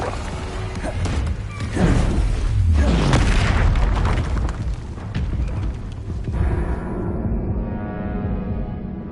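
A Confringo blasting curse from the Hogwarts Legacy game goes off as a deep, loud boom with a crashing burst, then a long rumbling tail that thins out over several seconds.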